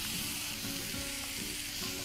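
Grated coconut sizzles in a hot pan with a little salt, a dense, steady frying hiss that stays even and close throughout with no voices.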